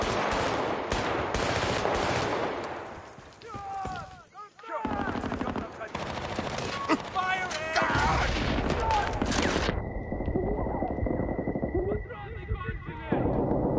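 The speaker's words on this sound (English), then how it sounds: "Get on that machine gun!" Rapid machine gun bursts ring out in the Battlefield: Bad Company video game, loud and close in repeated volleys with brief pauses, mixed with other battle noise and shouted voices.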